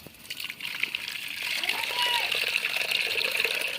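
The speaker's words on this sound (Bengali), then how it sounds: "দিচ্ছি সুজিতে জল।" Water poured into a bowl of semolina, a steady hissing gush that builds slightly over a few seconds, with faint background voices.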